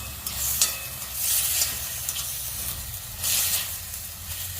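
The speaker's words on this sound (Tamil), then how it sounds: "சரி, வதக்கிட்டு தண்ணி ஊற்றி வேக வைக்கணும்." Steady frying sizzle of chicken sautéing with ginger-garlic paste, with bursts of stirring and scraping in a pan, close and moderately loud, no voices.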